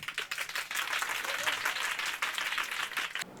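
Dense audience applause of many hands clapping together fills the stretch at moderate, fairly even loudness, fading slightly at the end.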